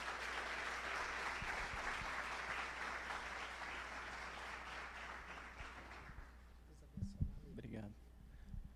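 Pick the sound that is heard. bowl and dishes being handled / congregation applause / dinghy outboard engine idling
congregation applause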